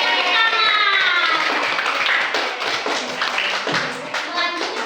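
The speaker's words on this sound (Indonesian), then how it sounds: "Yeay, tepuk tangan." Fourth-grade pupils in a Mataram primary school classroom clap together in a lively burst, with children's voices chattering over and around the claps.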